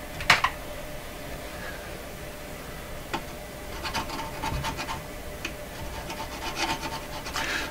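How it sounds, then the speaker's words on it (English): Faint scraping and rubbing of insulation being scraped off an old RCA Victor A23 tube radio's power cord, with intermittent gritty strokes and small clicks over a quiet background. "It's just a little more to scrape off here."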